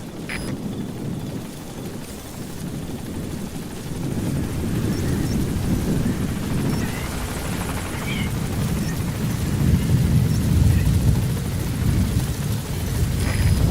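The support helicopter in Metal Gear Solid V arrives with a loud, continuous rotor roar and rumble that swells gradually over time and fills the scene without talk.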